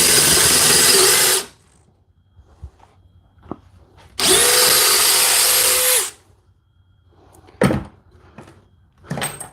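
A new compact Milwaukee drill runs in two loud bursts, a high whirring whine lasting a second or two each, separated by quiet with scattered knocks and clicks, close up.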